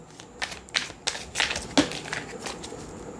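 Tarot cards are shuffled in a few soft, quick riffling bursts, close by and fairly quiet, with small pauses between.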